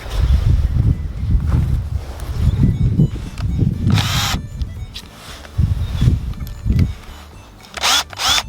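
A power drill bores holes in the timber of a raised garden bed on an outdoor allotment, with repeated bursts of whirring and revving separated by short pauses and handling knocks.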